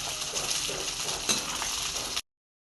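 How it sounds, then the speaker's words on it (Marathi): Oil heats and sizzles in a pan on a gas stove before okra is fried, giving a steady, hissing fry noise with a few faint clinks, then an abrupt cut to silence. "तेल टाकून घेऊया आपण। पहिले फ्राय करून घेऊया आपण।"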